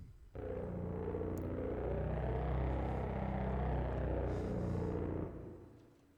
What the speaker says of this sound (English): It's a synth that sweeps.